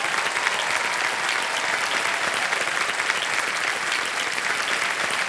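Loud, steady audience applause fills a television quiz show studio, dense and unbroken for several seconds with no voices over it.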